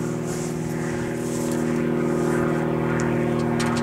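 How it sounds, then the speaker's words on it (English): A propeller airplane drones steadily and loudly overhead, its hum growing slightly stronger over a few seconds, with no talking. "Why is this plane getting so loud?"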